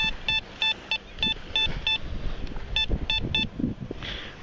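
A Teknetics Eurotec Pro metal detector gives a series of sharp, evenly spaced electronic beeps over a target on a beach, with faint rustling and wind beneath.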